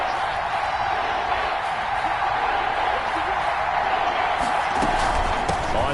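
A stadium crowd in a football video game, a loud, steady roar of many voices filling the whole stretch with some thumps and bursts of cheering near the end.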